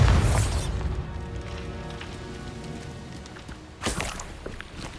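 A Bombarda explosion spell in the Hogwarts Legacy video game goes off as a loud burst with a booming low rumble at the start, then fades into a long crackling, rain-like wash, with a second sharp burst near the end.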